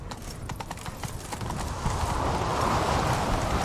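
A horse gallops in Witcher 3, its hooves clip-clopping in a steady, fast rhythm that builds and stays close and prominent, with rushing movement and game ambience behind it.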